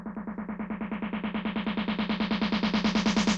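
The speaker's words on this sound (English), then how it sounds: "Could also put a little bit of delay on it." A buzzy synth bass in a bassline track pulses in a steady rapid rhythm, each note trailed by repeating eighth-note delay echoes as the tone gradually brightens.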